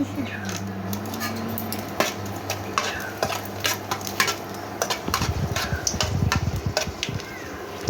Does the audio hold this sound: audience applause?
no